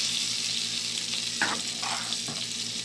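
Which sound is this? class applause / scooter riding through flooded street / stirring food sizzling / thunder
stirring food sizzling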